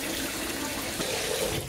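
Tap water runs steadily into a cooking pot in a home kitchen, a continuous close splashing rush with no break and no talking.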